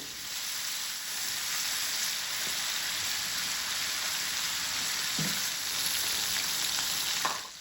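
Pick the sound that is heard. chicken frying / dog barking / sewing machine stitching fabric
chicken frying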